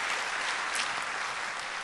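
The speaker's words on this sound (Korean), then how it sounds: "여러분 큰 박수로 축복해 주시기를 바랍니다" Church congregation applauding together in a sustained, dense wash of clapping, steady and fairly loud throughout with no voices over it.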